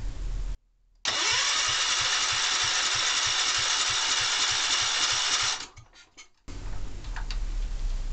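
A Kohler K241S small engine cranks on its push button starter in one long run of rapid, even rhythmic chugging for several seconds, close and loud, then stops, with quieter workshop noise before and after.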